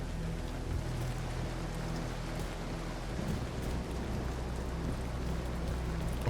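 Steady rain in the video game The Caribou Trail, a dense even hiss of falling drops with a low rumbling undertone, continuous and unbroken throughout.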